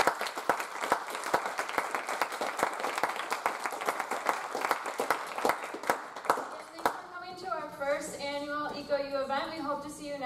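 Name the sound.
audience applause for panelists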